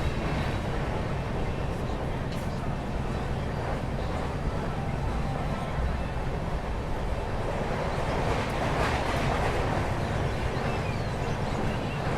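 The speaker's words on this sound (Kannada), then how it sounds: "ಟ್ರೈನ್ ನಾನ್ ಸ್ಟಾಪ್ ಆಗಿ ರನ್ ಆಗತ್ತೈತಿ" Steady broadband rumble of a long-distance express train running nonstop, heard from inside with rattling wheel and carriage noise and wind buffeting throughout, loud and unbroken.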